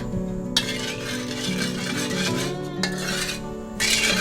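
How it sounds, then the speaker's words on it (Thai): A spoon steadily stirring sugar, fish sauce and water in a pan over low heat, a continuous close scraping and swishing that swells in louder bursts as the stirring speeds up. "คนจนน้ำตาลละลายเลยนะคะ"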